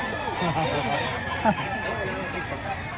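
Chickens and roosters at a chicken market in Lipa, Batangas, with crowing and clucking layered over a steady hubbub of nearby voices and market chatter.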